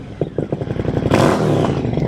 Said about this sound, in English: That is that Zard, 2-into-1 pipe.